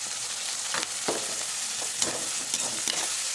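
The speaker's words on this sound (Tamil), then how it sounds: "அதுக்கப்புறம் நம்ம கட் பண்ணி வச்ச தக்காளி வந்து ஆட் பண்ணிக்கலாம்" Onions with salt and freshly added chopped tomatoes sizzle and fry steadily in a pan for a chickpea curry, with a few sharp stirring scrapes breaking through the constant crackle.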